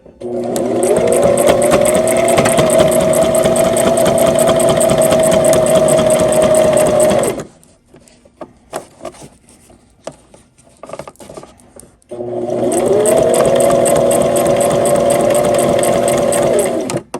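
Sewing machine back stitching two fabric pieces for a table topper, running loud and steady for about seven seconds, pausing briefly with light handling noise, then starting again for another long continuous run.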